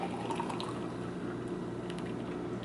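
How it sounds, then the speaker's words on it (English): A drink is poured into a glass cup, giving a steady liquid trickle that runs close and moderately loud for a few seconds with faint clinks. "Pour a little bit into this cup."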